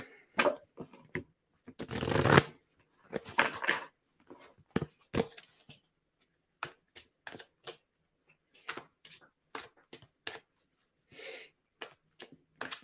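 Tarot cards are shuffled and flipped in quick, dry papery bursts with a longer riffle near the start, followed by scattered crisp snaps and taps, close and quiet with no talking.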